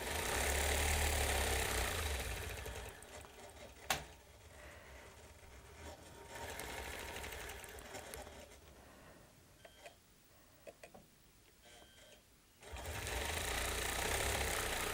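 A regulated sewing machine stitching crosshatch circles runs in a steady close hum, pausing midway with a few light clicks before resuming loudly, with no talk.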